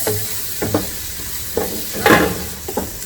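Dry spices frying in a pan for mulligatawny soup, a soft steady sizzle broken by several brief scraping stirs, close and moderately loud, with no talking.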